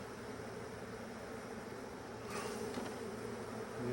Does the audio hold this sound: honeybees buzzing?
yes